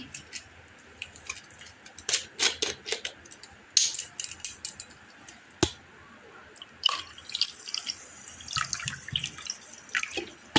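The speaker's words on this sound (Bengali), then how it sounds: "ঠান্ডা জল দিই" Cold water being poured into a glass of dissolved sugar for a sweet drink, with irregular splashes, drips and trickles close by, a brief knock partway through and a fuller burst of pouring in the second half.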